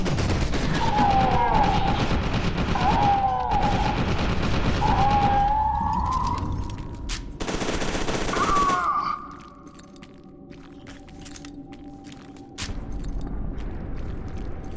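Submachine gun fire in F.E.A.R. 2: Reborn crackles in dense, rapid bursts over the first nine seconds, with whistling tonal game effects between volleys, then quieter background sounds.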